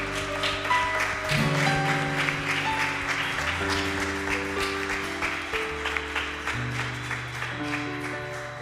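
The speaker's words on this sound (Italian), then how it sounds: "applauso al Signore per ringraziarlo per questa serata." Congregation applauding inside a church during an evening worship service, a dense steady patter of many hands with sustained organ or keyboard chords ringing underneath throughout.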